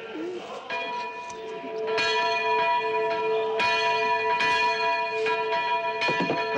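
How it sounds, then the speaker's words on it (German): Two church bells ring together outside the usual hour, their strokes overlapping in a loud, resonant peal with long ringing decays, close and continuous throughout. "Was läutet dann außer der Zeit und mit beide Glocken?"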